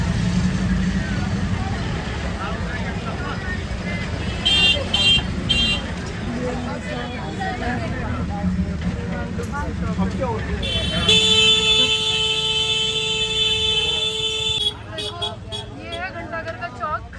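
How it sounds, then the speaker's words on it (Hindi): Heavy traffic crawls through the crowded Ghanta Ghar market, with engine rumble and repeated car horns honking in short bursts and one long sustained blast near the end, while people talk throughout. "अब जहाँ हम एंटर कर रहे हैं ट्रैफिक बहुत ज़्यादा रहता है यहाँ पर"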